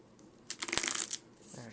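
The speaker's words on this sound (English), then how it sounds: "let's shuffle it again, shall we?" A deck of Pokemon trading cards being shuffled by hand, a quick riffling burst of papery flicks lasting under a second, close and fairly quiet, with a softer rustle trailing after.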